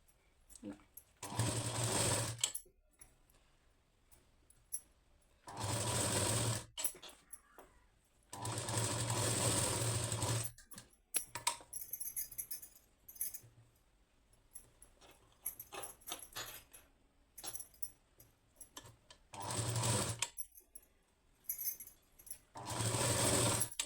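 A sewing machine stitches a blouse neckline in repeated bursts of fast, buzzing stitching separated by quiet pauses with small clicks and handling noises, about six runs in all.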